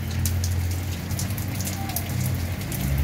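Heavy rain falls in late afternoon in Joaquim Gomes, Alagoas, in the Zona da Mata region: a steady, dense hiss of drops striking surfaces, with scattered sharper patters, continuous and loud with no talk.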